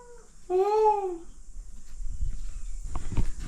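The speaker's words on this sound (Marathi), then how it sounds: "मांजर" A single drawn-out meow sounds up close, followed by quiet shuffling and a few soft knocks.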